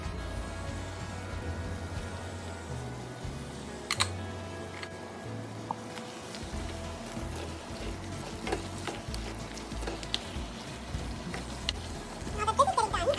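Chicken sizzles in a pan for a Hyderabadi chicken masala as chili powder is stirred in, giving low crackling and scraping with occasional utensil knocks close by.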